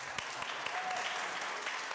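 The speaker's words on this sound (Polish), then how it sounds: "Brawa." Applause at a community award ceremony, many hands clapping steadily in a hall, moderately loud and continuous without talk over it.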